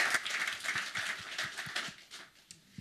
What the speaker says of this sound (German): Zuerst bitte ich einmal um einen kleinen Applaus für David Zilfner für diese Präsentation.